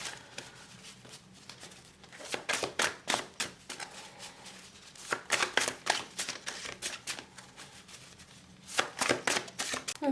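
A tarot card deck is shuffled close by in quick riffling bursts of crisp flapping and tapping, pausing briefly between rounds, fairly quiet and with no talking.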